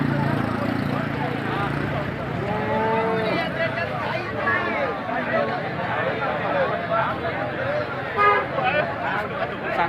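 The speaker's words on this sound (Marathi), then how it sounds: "ही गाय आपण पाहून घेऊ." At the busy Alephata cattle market in Maharashtra, a cow lows several times among a crowd of people talking, with a vehicle horn sounding now and then through the steady bustle.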